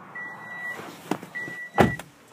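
Two bursts of a steady electric motor whine from the power windows of a 2014.5 Toyota Camry SE, each lasting under a second, broken up by mechanical clunks and a sharp thud near the end.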